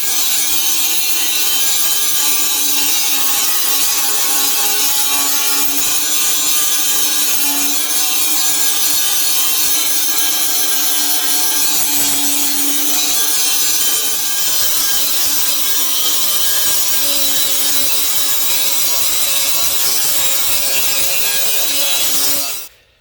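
Angle grinder dressing a welded sheet-metal panel by hand, a loud, steady abrasive whine running continuously for over twenty seconds with no talk, cutting off abruptly at the end.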